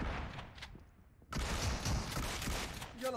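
Shotgun fire in a video game, a burst of loud sharp blasts after a quieter stretch, with dense gunfire and impacts filling the rest of the clip and no speech.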